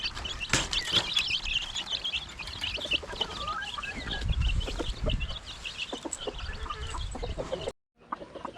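Several native chickens cluck and squawk continuously nearby, busy and overlapping, with a few sharp knocks, before a brief drop to near silence at the end.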